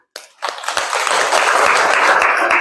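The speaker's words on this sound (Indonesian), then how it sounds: "Ya, semuanya tepuk tangan." A classroom breaks into applause, starting with a few quick claps and swelling into loud, steady group clapping that continues to the end.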